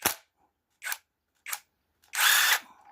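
Short bursts of a power tool, likely an impact driver or drill, working on a nut on a Peugeot 504 XD 2 diesel engine: three brief close whirs, then a longer louder burst with no talk.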